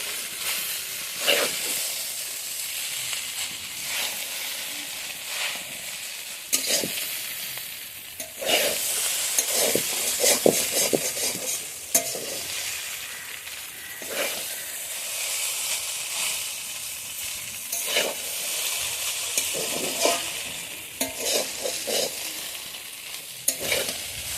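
Egg chicken chow mein being stirred and mixed in a frying pan: a continuous loud hissing sizzle broken by irregular scraping and tossing sounds, heard close with no speech.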